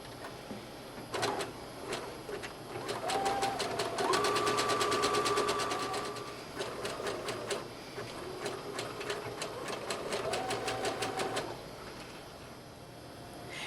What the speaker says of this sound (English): Now we'll finish those edges with the zigzag stitch.